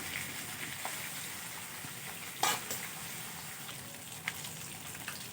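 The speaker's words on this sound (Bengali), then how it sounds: "তেলটা আমার গরম হয়ে গেছে, মাছগুলো দিয়ে দিয়েছি। এবার মাছগুলো আমি উল্টে পাল্টে ভালো করে" Fish frying in hot oil as the pieces are turned, a steady close sizzle with a few brief scrapes and taps of the spatula, no talking.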